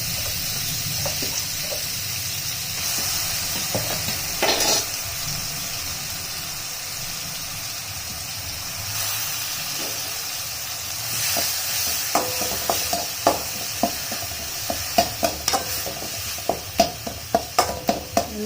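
Steady sizzling of ground onion paste frying in oil, with scraping and stirring clicks that grow more frequent toward the end.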